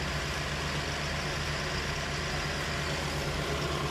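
A car engine idling during an air conditioning repair and efficiency test, a steady, dense, continuous low rumble and whir at an even level throughout, close and fairly loud, no voices.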